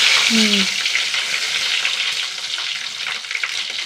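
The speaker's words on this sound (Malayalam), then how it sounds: "ഇട്ട് കൊടുക്കണം പച്ചമുളക് ഇട്ട് കൊടുക്കണം" Green chillies frying in hot oil in a clay pot, a steady close sizzle that runs the whole time, with a brief tonal squeak near the start.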